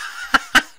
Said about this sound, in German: Oh, ein Vogel.